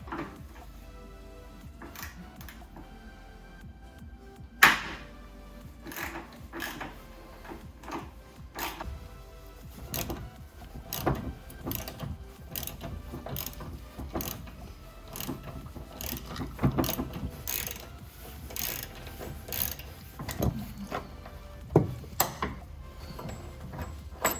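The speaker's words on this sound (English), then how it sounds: "removing the factory bolts in the bed. So I have them out here, but this one will be a T55" Factory bed bolts on a 2017 Toyota Tacoma being removed with a Torx T55 socket on a ratchet, close repeated clicking ratchet strokes and metallic clanks in irregular bursts.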